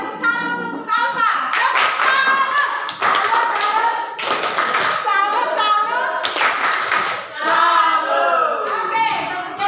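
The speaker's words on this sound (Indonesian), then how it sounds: "Tepuk salam untuk Kalpa." A high school civics class in Indonesia performs a patterned greeting clap together, rhythmic bursts of group clapping with children's voices chanting in between.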